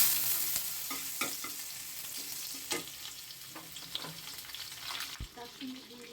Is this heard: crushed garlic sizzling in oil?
yes